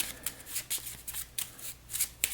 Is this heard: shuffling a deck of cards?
yes